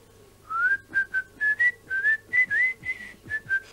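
Person whistling a Dutch folk-style tune, a clear melody of about a dozen short notes in a steady rhythm, close and fairly loud, with no talk.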